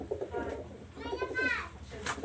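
Low, rolling coos from a nearby pigeon repeat through the moment while a higher child-like voice talks and calls out over them, rising briefly above the birds.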